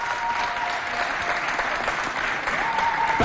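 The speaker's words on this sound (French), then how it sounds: "demander à nos téléspectateurs d'applaudir très fort" Studio audience applause on the FESTAFRICA SHOW, a Chadian fashion television programme. A steady, dense wash of many hands clapping holds at an even level for a few seconds, with no talking over it.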